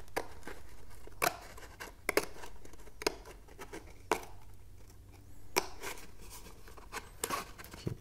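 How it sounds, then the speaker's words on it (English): Scissors cutting material at an angle to make a homemade spectroscope, heard as a quiet series of sharp, crisp snips at irregular intervals over faint background hiss, with no talking. "So I'm gonna cut from one side, and I'm gonna cut from the other side"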